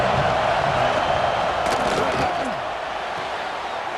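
Steady stadium crowd roar from the EA Sports College Football 26 video game, a continuous dense wash of cheering that stays loud throughout with a slight drop near the end, under faint commentary-like voices.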